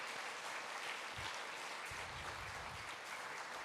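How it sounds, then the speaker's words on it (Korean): A church congregation applauds its choir during a Sunday afternoon praise service, steady clapping heard faintly and at a distance throughout, with a few low thumps. "박수로 우리 축복하겠습니다."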